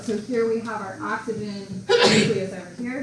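A single sharp sneeze bursts out from someone in a lecture hall during a biology class, loud and brief, set between stretches of a lecturer's ongoing talk.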